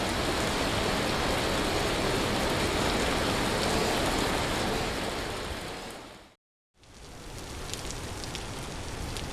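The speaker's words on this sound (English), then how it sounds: "You can hear my character objecting slightly to the impact of the hailstones." Hailstones pelt a player character during a storm in the survival game Vintage Story, a dense, steady patter of hard impacts that fills the clip, breaks off in a brief silence and then resumes slightly thinner.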